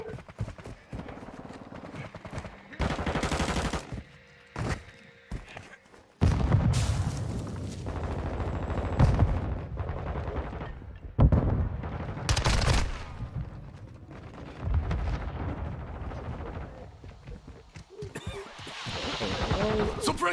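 Shotgun blasts in Modern Warfare 2 multiplayer, heavy bursts of gunfire and impacts that start and stop in loud clusters over constant game noise, with talk at points.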